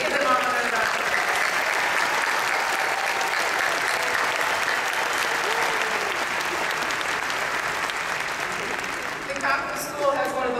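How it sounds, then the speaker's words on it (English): Loud, sustained audience applause for newly graduated engineering PhD and MS degree holders at a commencement ceremony, a dense wash of clapping that fades slightly near the end. "Let's give them all another round of applause."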